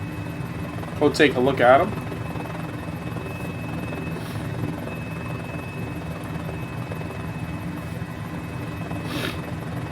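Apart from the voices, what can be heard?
Mini-500 helicopter flying in Microsoft Flight Simulator video game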